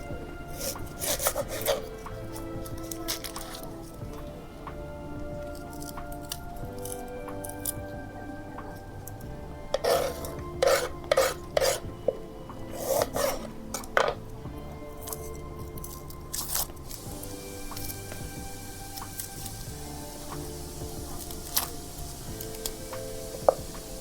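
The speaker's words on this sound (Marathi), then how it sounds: "आता कांदा कापून घेते" An onion being cut with a knife, close crisp crunching slices in irregular bursts, clustered near the start and in a busier run through the middle, over a quiet steady background.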